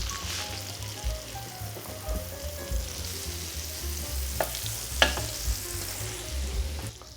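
Cottage cheese pancakes frying in butter in a non-stick pan, a steady close sizzle with scattered pops and a few clicks or taps near the end, no voices over it.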